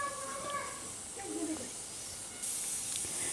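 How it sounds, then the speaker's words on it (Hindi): Steady hissing of a pressure cooker whistle venting steam while beef yakhni cooks, a continuous broadband hiss that grows louder and brighter partway through, with faint background noise and no talk. "ये देखें, 3 मिनट के बाद हमारी विसल चलना शुरू हो गई है।"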